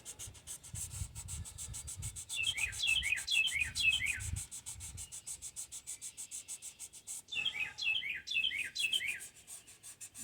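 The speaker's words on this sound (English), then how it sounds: "you can hear the birds chirping already" Two quick runs of bright, descending bird chirps ring out close by, separated by a pause, with soft scraping and rubbing noises underneath.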